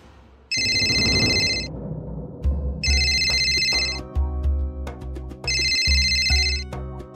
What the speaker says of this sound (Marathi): खासदार साहेबांचा फोन येतोय.